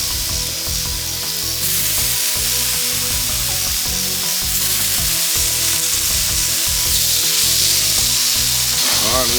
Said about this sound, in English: So I'm gonna head out there and throw the fish on. Right here, I'm gonna add a little bit of oil.